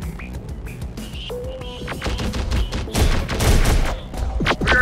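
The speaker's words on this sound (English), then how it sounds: "We are taking fire." Dense battlefield gunfire in the strategy game Terminator: Dark Fate - Defiance, rapid volleys and bursts cracking loud and close, building into heavy fusillades with booming thuds and radio-style unit chatter mixed in.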